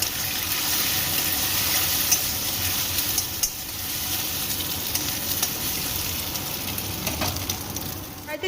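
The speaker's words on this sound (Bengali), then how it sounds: "ডিম 2টো এইভাবে ভেজে নেব।" Continuous close sizzling of eggs frying in hot oil, with occasional crackles and pops throughout, no voices.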